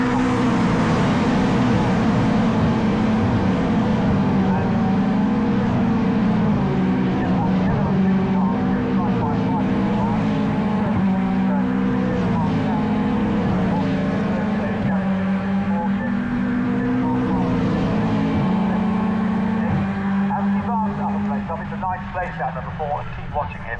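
Caterham race cars sweep through Lodge Corner during a close, competitive race, engines droning loudly and continuously with shifting pitch as several cars pass nearby, under a commentator's voice.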